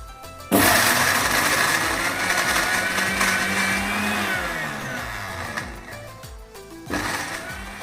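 A kitchen blender whirs up sour fermented fish for northern Thai curry paste, kicking on abruptly into a loud steady motor drone that dips and surges, with the jar rattling briefly near the end.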